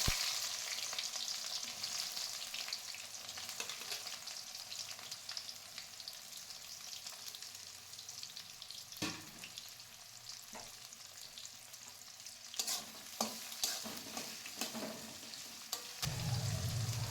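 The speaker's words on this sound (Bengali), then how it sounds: "পেঁয়াজ ভাজা হচ্ছে" Sliced onions frying in oil in a pan with bay leaves and white cumin, a steady crackling sizzle punctuated by scraping stirs and clatter of the spatula, fairly quiet and close.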